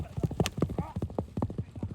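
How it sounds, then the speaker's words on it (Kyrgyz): Horse hooves clip-clopping in a quick, regular rhythm nearby, with a faint snort and someone talking quietly in the background. "Мына кетти ат"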